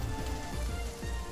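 Rain falls in the Coromon video game as a steady, dense hiss, loud and unbroken, with faint low rhythmic pulses beneath it.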